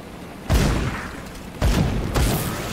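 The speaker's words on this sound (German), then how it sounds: "Der ist genau vor mir aufgetaucht und sofort in Fleisch explodiert." Enemies bursting into flesh in Grim Dawn, heard as two or three heavy, close, booming thumps with wet splattering tails at irregular intervals.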